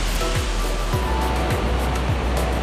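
A steady, roaring rush of falling water, loud and unbroken, filling the whole space without pause.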